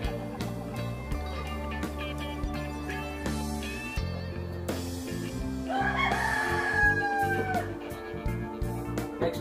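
A neighbour's rooster crows in a rising, drawn-out call at moderate distance, with scattered clucks from other chickens and some background household noise.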